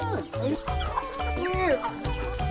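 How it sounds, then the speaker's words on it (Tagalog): Plump chickens cluck and call close by in a rural outdoor spot, a busy overlapping flock with repeated short clucks and rising squawks, while people talk over them. "Ang tataba ng mga manok dito."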